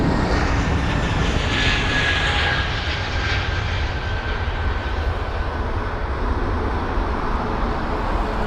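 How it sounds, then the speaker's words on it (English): Jet engines of a Boeing 737 at Heathrow taxiing onto the runway for departure, a loud, steady roar and whine heard from outside, with no speech. "the 737 just slotting in now. That's about to enter the runway and go for an immediate departure."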